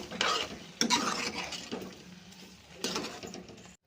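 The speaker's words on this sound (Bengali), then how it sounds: "মিষ্টি দেওয়ার পরে বেশ ভালো করে এবার নেড়ে চেড়ে নেব" Sweetened mixture is stirred in a pan just after sugar goes in, with scraping and clinking bursts in short clusters, close and moderately loud, with no voices.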